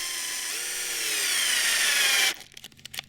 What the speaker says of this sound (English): Pre-drilling every hole.